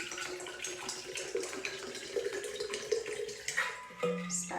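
Cold water poured into a glass that holds an ice cube, a steady close trickling pour that shifts in pitch as the glass fills, with no talk.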